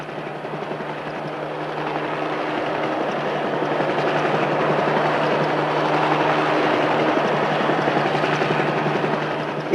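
A helicopter drones steadily overhead with a thick, constant rotor thrum that holds loud and even throughout.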